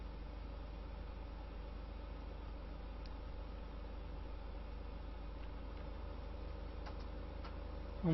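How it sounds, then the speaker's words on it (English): A baler running in Farming Simulator 2015 hums and drones steadily, with a faint mechanical ticking rhythm over a constant low engine rumble, close and even throughout. "we have to turn the baler back on"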